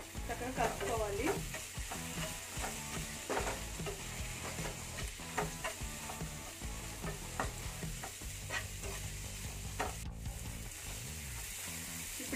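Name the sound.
stirring mango fish curry masala in pan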